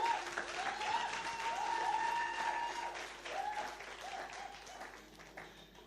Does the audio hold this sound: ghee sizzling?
no